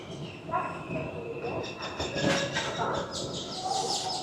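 The Himdarshan Express 52459, a Kalka–Shimla toy train with a Vistadome coach, rolls into Kalka station as a faint, distant rumble while birds chirp nearby.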